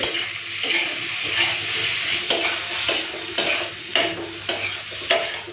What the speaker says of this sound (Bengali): এই যে আলু বেগুন উচ্ছেটাকে ভালো করে ভেজে নিচ্ছি